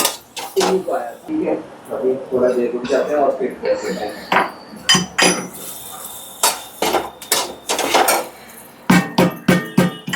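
Jaggery is pounded in a kadhai while making Maharashtrian puranpoli, giving a steady series of sharp metallic clanks and thuds, close and loud, repeating at a roughly even pace throughout.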